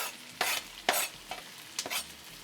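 Tomato and red onion sauteing in a pan, with a soft sizzle broken by four bursts of stirring and scraping at an uneven pace.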